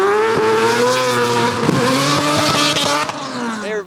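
A big block engine in a drift car at an event, loud and close as it sweeps around a corner, with a steady high rev, shifting pitch and tire squeal, and the sound dropping off at the end.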